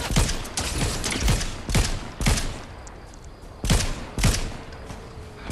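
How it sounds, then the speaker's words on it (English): Rapid DMR rifle fire in an online shooter game, a series of sharp, loud cracks spaced at quick irregular intervals, with clicking mechanical sounds between shots. "Oh, they got a DMR or something, because that's shooting way too fast for a sniper."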